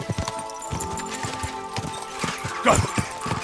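Rhythmic horse hooves clop along steadily at a moderate distance, with a louder thump and rustle near the end, in the video game Kingdom Come: Deliverance 2.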